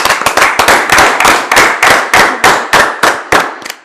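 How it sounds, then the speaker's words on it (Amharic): Loud, close applause in rhythmic unison greets a handmade lace gift being presented, sharp claps repeating steadily for several seconds before trailing off, with no talking over them. "አረ ጭብጨባ!"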